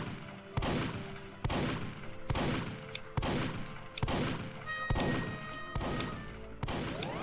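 Rapid bursts of turret gunfire in the Roblox-style game Survive the Disasters 2, with sharp repeated shots in clusters of loud cracks roughly every second, no talking.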